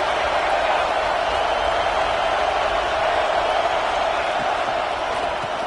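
Stadium crowd at an LSU vs Tulane college football game, a steady dense roar of many voices swelling behind the defense on a big third down, continuous and loud from start to finish with no distinct claps or whoops standing out.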